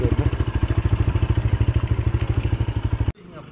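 A motorcycle with a damaged, blown silencer idles loudly beside a temple gate, its engine thumping in a fast, even rhythm before the engine cuts off abruptly.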